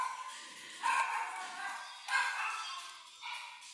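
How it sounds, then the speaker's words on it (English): A dog barks three times at a distance, each bark a sharp burst followed by a fading tail, with a muffled, slightly processed quality as if picked up through a call microphone. "Hear the dog."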